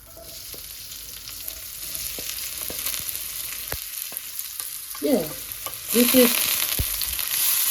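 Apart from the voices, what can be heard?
onion frying in olive oil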